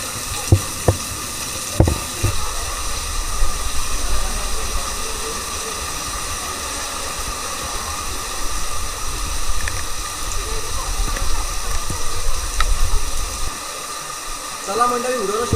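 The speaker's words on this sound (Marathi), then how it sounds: "दोन साईडून पाण्याचा प्रवाह येतो इथे" Rushing water from a waterfall near Shri Kshetra Kondeshwar, a loud continuous broadband roar with a few faint knocks and a voice briefly audible toward the end.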